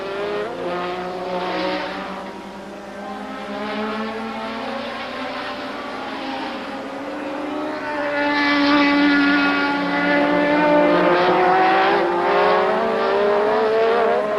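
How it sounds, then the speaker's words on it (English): Formula One cars of the 1980s, a Renault-engined Ligier, a Ferrari with its V6 turbo engine and a Renault, race together around Druids Hill Bend at Brands Hatch, engines screaming and shifting pitch as they pass, loud and continuous, swelling as they approach. "the Ligier with its Renault engine, the Ferrari with its V6 turbo Ferrari engine, and the Renault-powered, of course, Renault of Warwick go round Druids Hill Bend together"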